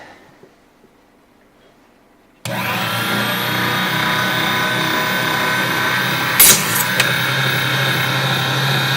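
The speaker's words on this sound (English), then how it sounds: "That saw cut better than I was expecting." A power saw cuts into the shoulder of a .223 brass case, starting abruptly after a near-silent pause with a loud, sustained whining buzz and a short harsh burst of grinding partway through.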